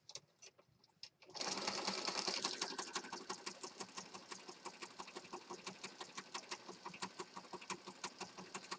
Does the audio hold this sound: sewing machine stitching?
yes